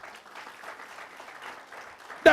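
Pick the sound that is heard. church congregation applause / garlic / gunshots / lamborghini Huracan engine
church congregation applause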